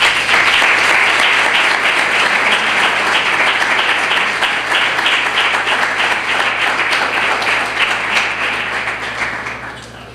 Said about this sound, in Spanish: os pido un fuerte aplauso para el director de Diario Chipiona, don Javier Rico